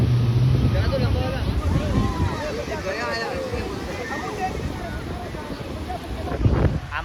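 A jet ski speeds across the sea off North Goa. It is a loud, steady engine drone with rushing water and heavy wind buffeting the microphone, and someone talks over it.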